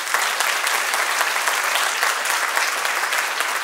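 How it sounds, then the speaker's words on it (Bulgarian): Thick, even applause fills an awards-ceremony hall at the Cake Art Bulgaria Awards, many hands clapping continuously without a break throughout. "Вашите аплодисменти за Криси от Пловдив"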